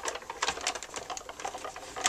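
A Cuttlebug embossing machine cranks a sheet of paper through with a B embossing plate, giving a steady close-up run of quick mechanical clicks and rattles that speeds up and grows louder at the end.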